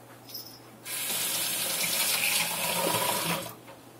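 A spoon rinsed under a running kitchen tap, the water suddenly gushing on for nearly three seconds as a loud, steady splash and then cutting off, close and with no voices.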